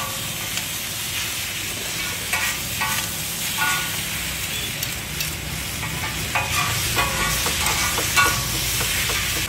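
Boiled noodles are stir-fried on a hot tawa with black pepper and chilli sauce at an Indian street food stall, with constant loud sizzling and hissing broken by sharp metallic scraping and clanking of the spatula.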